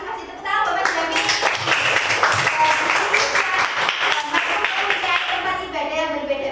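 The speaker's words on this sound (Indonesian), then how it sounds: "Tepuk tangan buat Mas Jamil." A class of elementary school children claps in a sustained, dense round of applause for a classmate during a lesson, with a few young voices mixed in over the steady clatter.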